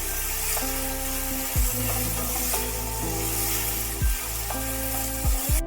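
Potatoes dropped into hot oil sizzle loudly and steadily, with a few dull thumps from stirring.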